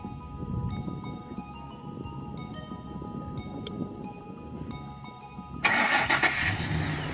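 A pickup truck fitted with a remote start cranks and fires up after a stretch of chiming and clicks, its engine catching partway through and settling into a steady idle, close by with no talk.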